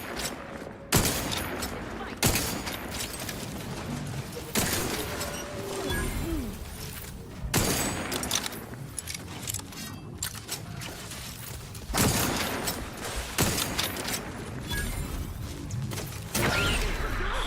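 An enemy in The Outer Worlds 2 fires on the player in loud, abrupt bursts at irregular intervals. Clattering mechanical noise and a low ambient rumble run between the bursts.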